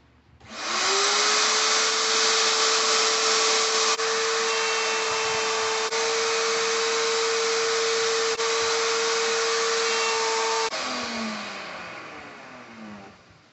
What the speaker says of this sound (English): put just a little bit of a chamfer on these edges here to take that sharp edge off